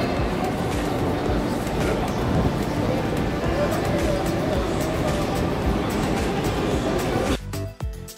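A metro train in Kyiv rumbles loudly and steadily, close by, then its noise drops away abruptly near the end, with a murmur of voices underneath.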